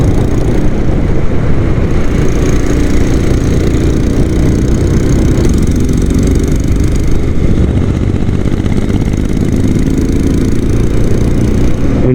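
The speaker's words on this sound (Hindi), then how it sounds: "साउंड एग्जॉस्ट का पीछे तक आ रहा है" A Royal Enfield Interceptor motorcycle's exhaust drones steadily while riding, a loud, continuous low engine rumble with wind noise throughout and no talk.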